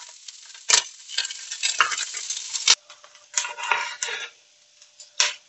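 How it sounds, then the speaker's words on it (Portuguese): Calabresa sausage browning in its own fat in a pan, crackling sizzle in bursts with stirring scrapes and light clinks of a utensil, close and fairly quiet. "Ela vai dourar na própria gordura dela"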